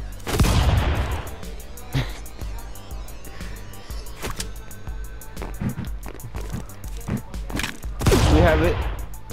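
Gunfire from a weapon in Stick Fight, made up of sharp shots fired in irregular bursts, with heavier noisy blasts near the start and end over a busy game backdrop.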